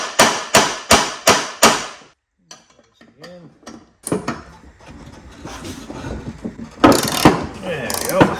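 A ratchet works bolts out of a John Deere L130 48-inch mower deck: five sharp, rhythmic metallic bursts up close, then quieter clinks and scraping, and another loud flurry of ratcheting near the end.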